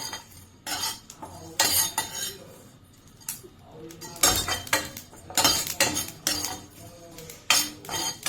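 Irregular metallic scraping and light clinks of a utensil stirring dry spices roasting in a pan for raw mango gojju, coming in short bursts separated by quieter pauses.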